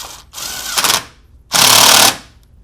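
A power tool drives torx fasteners on the alternator of a 2002-2006 MINI Cooper S, two loud, buzzing bursts close by, the second longer and steadier.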